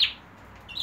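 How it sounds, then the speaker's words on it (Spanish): Pet canaries give brief high chirps, one at the very start and another near the end, with quiet room hush in between and no talking. "Mira cómo tengo los pajaritos."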